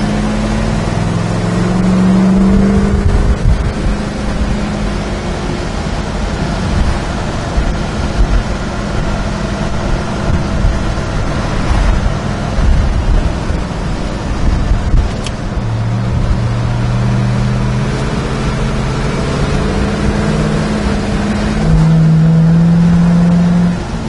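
A 1967 Pontiac GTO cruises down the road. Its engine drones close and loud throughout, with the pitch rising and settling as it shifts and accelerates, alongside steady road and wind noise.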